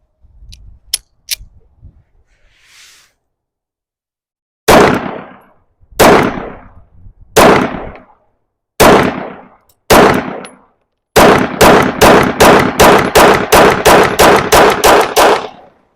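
Sig P365 pistol fired from a 17-round magazine: a few faint clicks, then five spaced loud shots followed by a rapid string of about a dozen sharp close reports, each with a short echoing tail.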